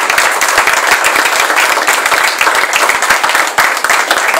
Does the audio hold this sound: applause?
yes